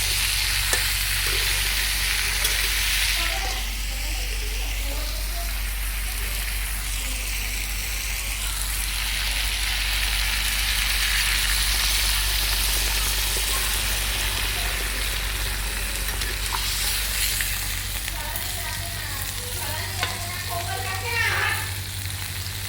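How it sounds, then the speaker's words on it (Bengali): Papaya vegetable sizzling steadily as it fries in a pan for a home-cooked lunch, a continuous loud crackle with occasional stirring, no talk over it. "তো সবজিটা ভাজা হয়ে গেছে, এখন জলটা দিয়ে দেবে।"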